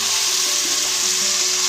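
Tomato puree hitting frying onions in a pan for Telugu fish curry, a loud steady sizzle with faint bubbling crackle throughout.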